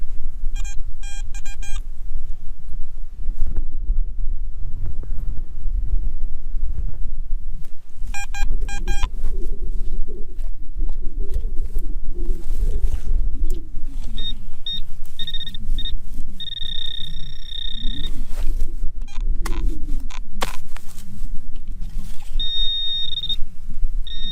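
Short electronic beeps from a Garrett AT Max metal detector come in bursts, then a warbling target tone rises and falls over a constant low rumble of outdoor background noise.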